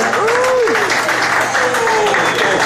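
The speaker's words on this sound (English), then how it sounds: "clap it up to Stoney for being with us this evening." Audience clapping at a producers' beat camp in Miami, loud applause that fills the moment while voices and a tonal sweep sound over it.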